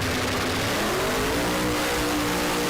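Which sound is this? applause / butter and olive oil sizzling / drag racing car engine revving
drag racing car engine revving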